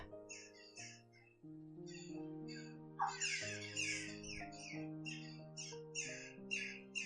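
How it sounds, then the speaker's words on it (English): Nesting birds close by give repeated high, quick chirps and squawks in short clusters, with one louder squawk near the middle. They sound over soft, sustained background music at a low overall level. "There are some really noisy birds that are nesting, like literally right next to where I'm recording."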